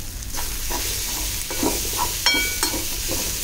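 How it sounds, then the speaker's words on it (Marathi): Shellfish sautéing in oil with turmeric and Malvani masala, a close, steady sizzle with a few metallic spoon scrapes and taps against the pan, with no talk. "तेल सुटेपर्यंत आपल्याला परतून घ्यायचं आहे"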